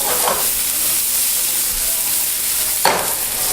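Onions fry in hot oil in a pan, a loud steady sizzle that holds throughout, with a brief louder crackle near the end.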